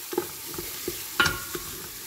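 Beans and Circassian herb seasoning sautéing in a pan, a steady close sizzle broken by several soft scraping stirs, with one stronger scrape partway through.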